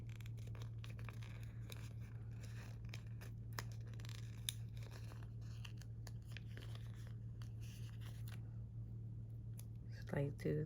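Scissors cut a sticker sheet in half during a planner-decorating session, making faint, crisp snips and light papery crackles over a steady low hum, with a brief burst of sound at the end.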